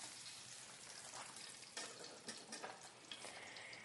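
Blanched fresh asparagus frying in a pan, a steady broadband sizzle with brief crackling bursts and spatters, close and moderately loud, no talking.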